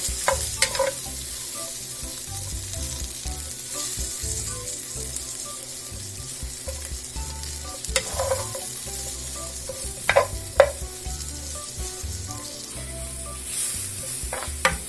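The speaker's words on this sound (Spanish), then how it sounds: "le vamos a agregar el poro para que se vaya sazonando con la mantequilla, se vaya sofriendo un poquito" Leek sautés in melted butter with a continuous soft sizzle, and a utensil stirs and taps against the pan several times.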